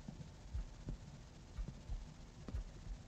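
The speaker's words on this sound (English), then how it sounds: "Ooh, I hear a heartbeat." A slow, low heartbeat thud pulses through a horror video game, with soft paired beats repeating roughly every second over a faint droning hum, no voices.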